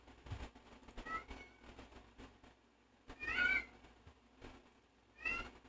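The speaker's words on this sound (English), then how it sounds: "What do you want, cat?" A cat meows indoors in three separate calls, the second the longest and loudest, each rising and falling with short pauses between, close and clear against a quiet room.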